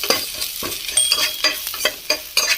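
Onions with masala spices fry in a pan, a steady hot sizzle broken by repeated scraping stirs in an irregular rhythm, close and fairly loud, with no voices.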